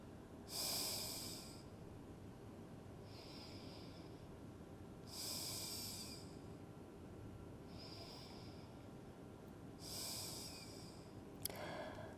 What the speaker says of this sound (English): Take a few breaths here